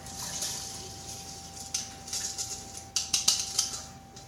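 Rice and vegetable broth poured into a cooking pot, a wet splashing and pattering that builds into several close, uneven bursts of liquid and grains hitting the pot, with no talking.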